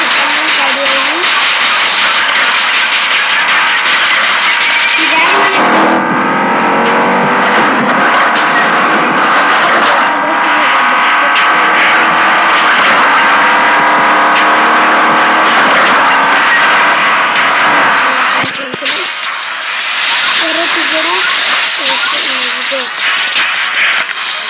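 A drag race car engine revs and roars in a racing video game, loud and continuous throughout, with rising and shifting pitch as it accelerates.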